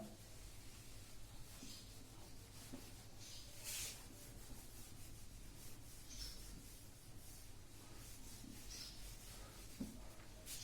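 A teacher rubs writing off a board during a physics lecture, soft repeated scrubbing and swishing strokes, faint and close, with no talk.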